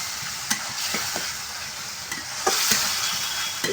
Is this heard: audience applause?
no